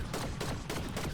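Rapid video game gunfire, likely Fortnite, rattles in quick bursts of several shots over about a second, fairly faint and with no talk.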